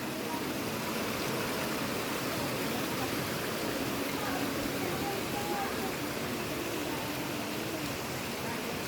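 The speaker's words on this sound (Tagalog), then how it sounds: "Ang ganda ng Tinago Falls." Tinago Falls sends up a steady, dense roar of rushing water that stays close and constant, with no breaks.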